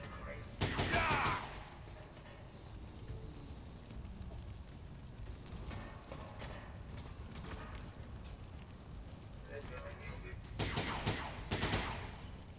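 Gunfire in the XCOM 2 strategy game: two loud bursts of rapid shots, one near the start and one near the end, with quieter game ambience and scattered effects between them.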